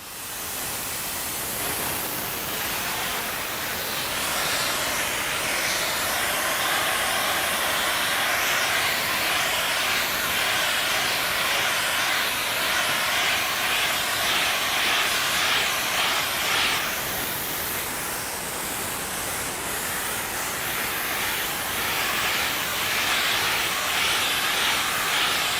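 Spray rig laying down Perma-Coat coating, a steady loud airy hiss that runs unbroken for the whole stretch with only slight swells in intensity.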